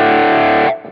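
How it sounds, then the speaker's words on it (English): An electric guitar plays through a mini Tube Screamer overdrive with the tone turned down. It rings out as a single loud, dark, muffled sustained chord that cuts off abruptly near the end. "it's almost like what distortion sounds like in the room next door if your neighbor was playing it"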